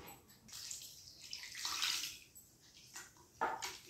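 Water poured into a raw mango tamarind broth for mamidikaya pachipulusu, a steady splashing pour that swells in the middle, dips, then gives a brief final splash, close and fairly quiet, with no talk.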